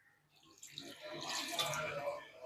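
Water is poured into a pan of dried fish curry (karuvadu kuzhambu), a short, soft splashing pour that swells and then trails off.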